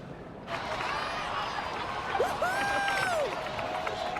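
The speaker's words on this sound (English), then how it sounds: "Let's give a huge round of applause to our brave young warrior, Kachina!" A crowd applauds and cheers for the young warrior Kachina, a dense wash of clapping rising after a brief hush, with excited voices and a whoop over it.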